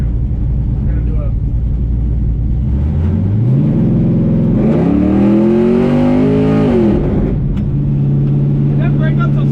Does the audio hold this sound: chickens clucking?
no